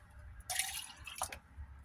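Water dripping and splashing as electronics are rinsed with clean water in a stock pot, two or three quick close splashes, faint and alone.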